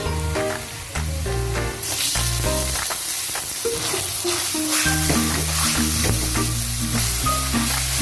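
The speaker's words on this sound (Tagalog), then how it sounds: "I-mix natin guys yung ating kamatis." Tomatoes, onion and garlic sautéing in a pan give off a loud, continuous sizzle, with background music playing along throughout.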